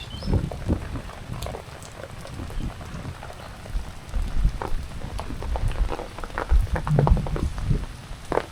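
Heavy rain falls on a village path beside a pond, a dense steady patter with scattered close drops striking near, loud and unbroken.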